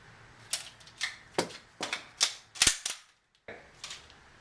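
A rifle being racked once and its forward assist pressed, heard as a quick series of sharp metallic clicks and clacks close by, with a brief pause near the end.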